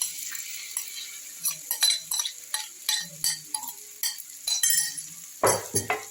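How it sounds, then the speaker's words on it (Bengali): A spoon stirs ground chana dal paste with nigella and cumin seeds in a pan, making a run of irregular close scrapes, clinks and knocks against the metal, each separate and crisp, with no talking. "এবার আমি ডালটাকে কালো জিরে গোটা জিরে সবের সঙ্গে খুব সুন্দর করে একটু নাড়াচাড়া করে নিচ্ছি।"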